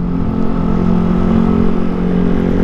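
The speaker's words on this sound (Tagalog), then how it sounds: "Grabe mga motor dito no, enduro." Enduro motorcycles in Sagada, heard as a steady mid-pitched engine drone with a continuous rumble and no pauses, no talk over it.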